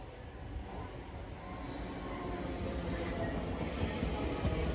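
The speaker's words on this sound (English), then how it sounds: "here's my train arriving now, 334-035, arriving on time at 11:31" A class 334 electric train pulls into a station platform, its wheels rumbling and faintly squealing on the rails as the sound slowly builds and draws nearer, with no talking.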